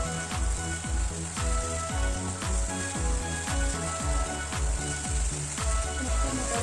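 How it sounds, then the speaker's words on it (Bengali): Ingredients for South Indian rasam sauté in a hot pan, giving a steady close sizzle with crackling pops and regular scraping stirs throughout, and no voices. "এবার এটাকে সুন্দরভাবে একটু কষিয়ে নিতে হবে"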